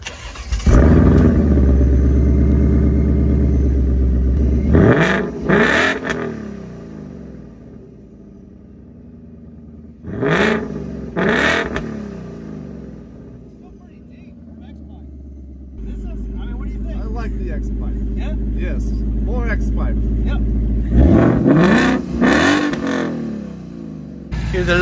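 Supercharged 2021 Ford Mustang Mach 1 V8 revving in repeated bursts close by, rising and falling between steady idle stretches, with people talking between the revs.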